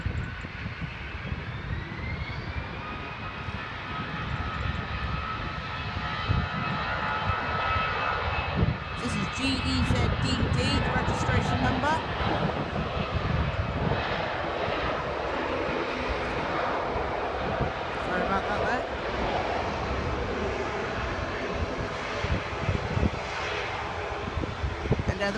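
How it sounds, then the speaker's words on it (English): An EasyJet airliner takes off at Southend Airport, its jet engines roaring loud and steady and swelling as the aircraft climbs away, with someone talking over the noise. "We've got liftoff on our EasyJet flight there."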